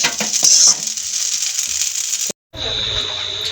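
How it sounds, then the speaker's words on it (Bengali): Pasta and potatoes fry in a pan, a steady loud sizzle with some stirring scrapes, broken by a brief cut before the hissing resumes more evenly. "আলুর সাথে পাস্তা ভাজা খুবই টেস্ট।"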